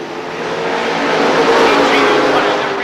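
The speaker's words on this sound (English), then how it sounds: "Off and running, a good start for the 99 of Jerry Kiley" Race cars at Rockford Speedway in 1993 roar around the oval in a loud, continuous pack, engines droning steadily close by, with an announcer calling the race over the noise.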